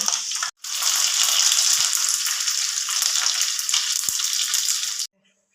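Puchka shells (pani puri) deep-frying in hot oil, a loud, steady sizzling hiss with a brief gap near the start, cutting off abruptly at the end.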